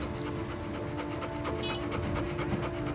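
A six-year-old female Malinois working dog in Cambodia pants quickly and rhythmically at close range, the short breaths repeating under a steady background hiss.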